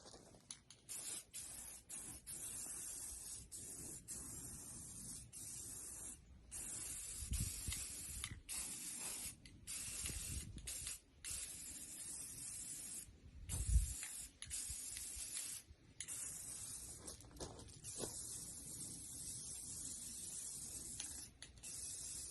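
Rattle-can clear coat hisses onto a 1940 Chevy pickup in repeated bursts, each long spray broken by short pauses, close and steady with faint clicks from the nozzle between passes.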